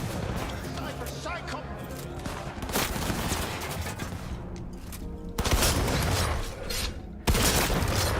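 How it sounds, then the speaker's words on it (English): Shotgun blasts in Cyberpunk 2077 boom out amid a dense, chaotic firefight, with two especially loud bursts near the end over constant background clatter and noise. "This shotgun sounds crazy."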